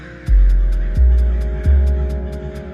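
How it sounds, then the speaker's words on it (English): Crows caw in loud, repeated calls, three strong harsh squawks spaced about a second apart over a low steady hum, close by and without talk. "the chirping within the span of a couple hours gets taken over by crows squawking"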